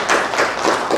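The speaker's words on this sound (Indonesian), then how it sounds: "Tepuk tangan." A short burst of applause from a seminar audience, steady dense clapping filling the whole moment with no voices.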